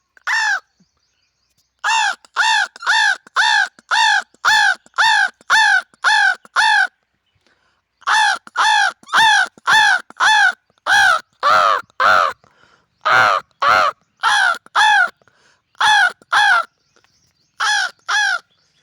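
A man imitates a crow's caw with his voice, giving long runs of loud, harsh caws in quick, even bursts, pausing briefly between series, close and alone without other talk.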